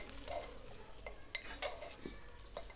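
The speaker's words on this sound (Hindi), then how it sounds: "और इसको एक बार अच्छे से हम हिला देंगे।" A spoon stirs potatoes, peas and cauliflower inside a pressure cooker, giving soft scraping and metallic clinks against the pot, quiet and irregular with a few sharper taps.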